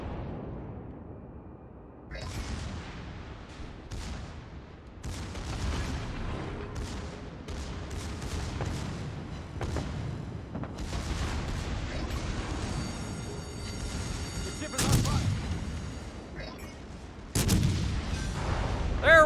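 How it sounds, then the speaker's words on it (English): Ship battles in World of Warships Legends rumble with a dense, continuous stream of naval gunfire and explosion booms, with sharper, louder blasts standing out near the end. "we got our first explosion"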